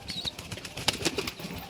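A pigeon flapping its wings at a rooftop loft, a quick burst of dry whooshing wingbeats close by with a faint chirp early on, brief and moderately loud with no speech.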